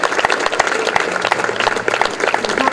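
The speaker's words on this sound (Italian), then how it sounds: "un applauso a questa orchestra" An audience at the Premio Gattopardo d'Oro 2023 ceremony in Palma di Montechiaro applauds the orchestra, a brisk, steady patter of many hands clapping at moderate loudness throughout, with a few voices faintly underneath.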